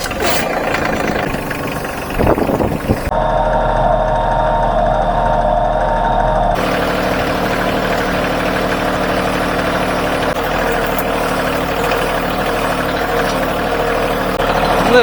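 A Bobcat CT2025 compact tractor engine idles steadily and continuously, a loud, close rumble that holds throughout, with a brief louder clattering burst near the start.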